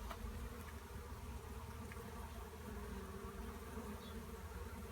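Honey bees drone steadily at an opened hive during a winter check, a faint, even buzzing with no voices.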